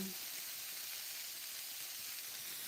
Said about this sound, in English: I always like to salt my onions when I saute them